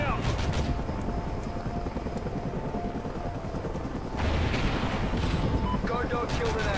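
Call of Duty Ghosts gameplay with a chopper gunner helicopter overhead: a constant rotor drone layered with bursts of gunfire and explosions, loud and continuous, under a speaking voice.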